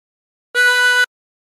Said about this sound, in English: Breathe in through 3 to play B.